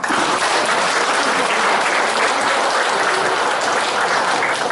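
Dense, steady applause from the crowd at a 2018 Korean party election press conference for Gumi-area campaign pledges, loud and continuous with no talk over it.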